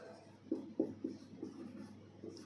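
Writing on a board during a tenth-grade science lesson on acids and bases: a few short, firm strokes, then lighter scratchy marks, close and fairly quiet, with no voice.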